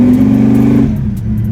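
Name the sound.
800HP blown big block Camaro engine revving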